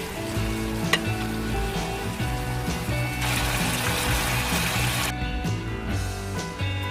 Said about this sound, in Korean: 대패 삼겹살에 후추와 소금을 약간씩 뿌려 구우면